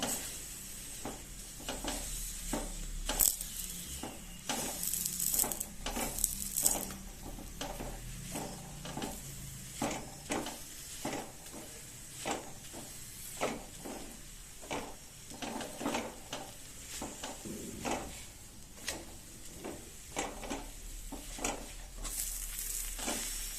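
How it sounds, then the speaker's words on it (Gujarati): Khakhra roasting with oil on an iron griddle over a very low flame, pressed down with a flat wooden presser: a steady soft sizzle with repeated short scraping and pressing strokes in a regular rhythm, close and moderately quiet. "લોઢીમાં તાપને ધીમો રાખ્યો છે એકદમ, અને આ રીતની ડટ્ટી છે એનાથી આપણે પહેલા કોર ઉપર ભાર દઈ અને શેકવાનું છે"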